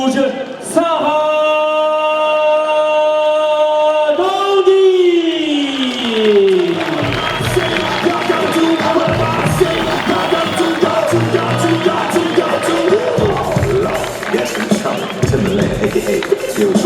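A sustained tone slides downward, then a crowd at a fight night erupts into cheering and applause for the Italian fighter Sara Donghi. The roar is broad and continuous, with an announcer's voice over the noise.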